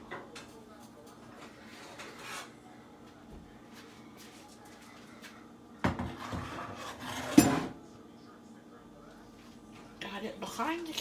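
A pan being moved and handled in a home kitchen while plating dinner: a few sharp metallic clinks and knocks of cookware and utensils over a quiet room, with a person talking throughout.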